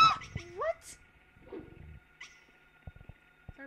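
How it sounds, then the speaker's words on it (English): Dog whimpering in the survival horror video game Silent Hill: a few high, rising whines at the start, then quieter low sounds with occasional faint voice. "Is there a puppy in here now?"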